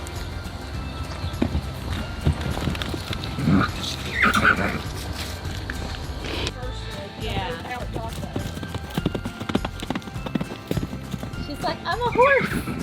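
A horse prancing outdoors makes a rhythmic clip-clop of hooves. People chat over it, and a faint whinny can be heard near the end.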